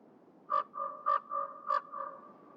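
A crow caws during an outdoor audio test for the game Escape from Tarkov, giving three fairly faint, evenly spaced calls with softer tones between them.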